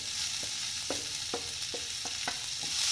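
Green chilies, ginger and curry leaves sizzle in hot oil, a steady close hiss punctuated by regular light stirring taps about every half second, with no voices.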